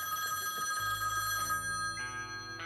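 A telephone rings inside the video game The Quarry, a steady electronic bell tone with sustained harmonic ringing that shifts pitch partway through, heard alone without talk.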